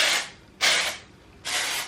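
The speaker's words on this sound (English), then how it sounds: "So all you have to do is spray this throughout the hair." Three short bursts of aerosol dry shampoo spray hiss onto a cheap synthetic wig, each bright and close with brief pauses between, and no talking.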